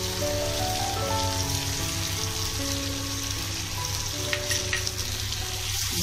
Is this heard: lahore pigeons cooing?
no